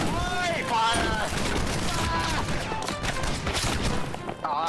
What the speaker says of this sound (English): Pistol volley at the same time.